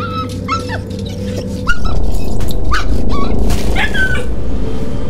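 A dog gives high, thin whimpers and yelps in a dark horror setting, several short pained cries close by, with a sudden loud rumbling swell partway through that carries under the last whines.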